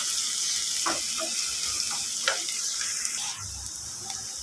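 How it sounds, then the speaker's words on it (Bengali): Onions fry in hot oil with cinnamon bark and cloves, a loud continuous sizzle broken by several scrapes and knocks of a spoon stirring the pan. "পেঁয়াজটা এখন ভালো মতো নেড়ে চেড়ে নেব।"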